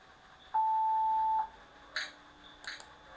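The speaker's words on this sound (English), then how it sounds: "There is a beep when it stops automatically." A single steady electronic beep of just under a second sounds as a computer program drawing an Ulam spiral stops on its own, followed by a few faint clicks in a quiet room.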